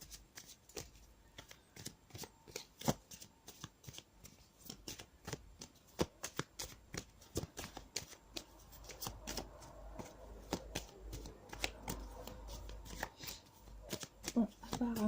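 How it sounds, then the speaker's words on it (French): Tzigane oracle cards are shuffled and drawn with a long run of quick, crisp flicks and slaps, close up and fairly soft, and the rhythm grows denser toward the end. "je vais tirer une carte de l'oracle Tzigane"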